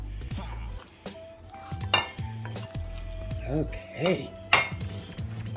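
Red-skinned potatoes from an air fryer go into a serving bowl with clinks and scrapes of utensils against the dish, several sharp knocks amid a kitchen hum, with a brief spoken word at the start.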